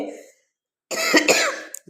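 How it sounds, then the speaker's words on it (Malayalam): A person coughs close by, a few harsh bursts following a short spoken phrase and a pause. "ചുമയായിട്ട് അയ്യോ"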